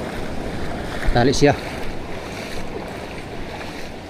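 Steady wash of sea waves and wind noise around a boat tied up on a beach at Dinahican, Infanta, Quezon, as Typhoon Uwan approaches, with a brief spoken phrase cutting in midway.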